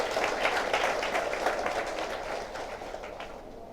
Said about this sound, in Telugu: ఒకసారి క్లాప్స్ కొడదామా గట్టిగా?